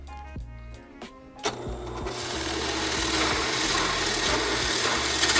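A 2.5-inch Forstner bit bores into a clamped wood piece, a few clicks and taps, then the drill whirs up and grinds steadily through the wood, loud and close, without talk.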